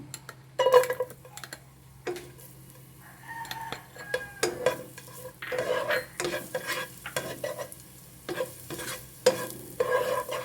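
Garlic sautés in a pan for a sinigang of pork ribs, giving a steady close sizzle broken by repeated clatters and scrapes of stirring, with a low hum in the background.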